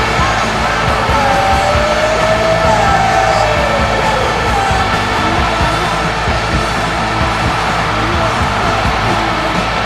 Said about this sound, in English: this crowd shouting